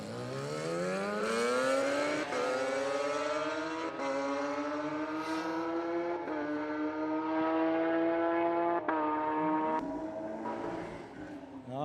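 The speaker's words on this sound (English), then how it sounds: "great run from him there. Has got the Kawasaki H2" A Kawasaki H2 motorcycle makes a drag racing pass at a night drag and burnout event in Sydney, its engine roaring loudly and continuously as the pitch climbs and drops with each gear change.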